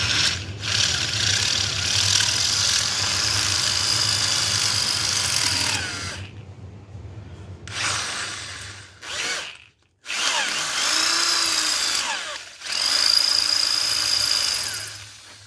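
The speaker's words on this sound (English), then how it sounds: "So we're going to drill it." A power drill whines steadily through the metal of a Pontiac 400 engine block, stopping briefly a few times before starting up again, loud and close.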